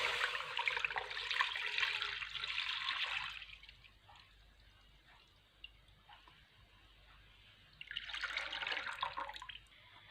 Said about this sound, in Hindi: अब हम इसमें 2 किलो दूध शामिल कर देंगे